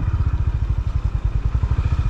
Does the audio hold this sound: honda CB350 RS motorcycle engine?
yes